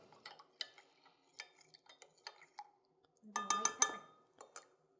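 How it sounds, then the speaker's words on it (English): Oyster sauce and sesame oil being stirred in a small dish, giving light clinks and taps of a utensil against the container in a short, irregular burst, fairly close and quiet, with no talking. "Stir this up."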